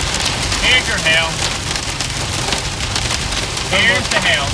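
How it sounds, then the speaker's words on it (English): Golf-ball-sized hail pours down steadily during a weakening storm in the Kansas, Oklahoma and Texas Panhandle region, a dense continuous clatter on surfaces with a few faint tonal chirps on top. "Here's your hail."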